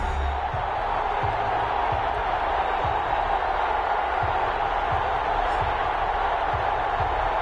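A roaring stadium crowd at an NFL game between the Seattle Seahawks and Cincinnati Bengals in a football video game, a steady dense wash of cheering with faint rhythmic thumps underneath, heard without pauses.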